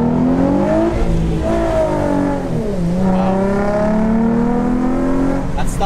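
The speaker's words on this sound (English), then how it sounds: "This car sounds good." An Infiniti G35 car engine accelerating through the gears, a loud, close rising exhaust drone that drops at a shift and climbs again, heard from inside the car.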